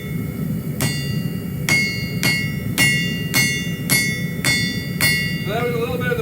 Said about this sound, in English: that was a little bit of the borax caught between the anvil and the hot spot